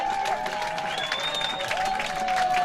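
Fans at a high school baseball state playoff regional final clap rhythmically to rally a player, a busy crowd patter with sustained whistle-like tones riding over it.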